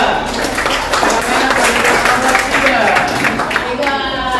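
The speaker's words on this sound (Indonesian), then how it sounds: "tepuk tangan untuk kelompok 2" A class of students applauds a student group during a teaching performance session, a dense, steady patter of clapping throughout with voices mixed in.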